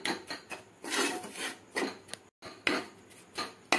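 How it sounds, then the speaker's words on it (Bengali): A metal spatula scrapes and rasps in short repeated strokes against a pan, breaking up lumps of gram flour frying in ghee for besan halwa, close and fairly loud with brief pauses. "এভাবে খুন্তির সাহায্যে এভাবে এভাবে ভেঙে ভেঙে দিতে হবে"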